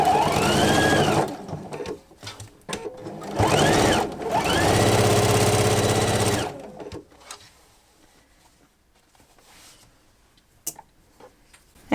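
A sewing machine runs in loud, steady bursts while stitching a quilt seam, and one or two brief gaps fall between passes. It then stops, and the clip ends in near silence broken by a few small clicks.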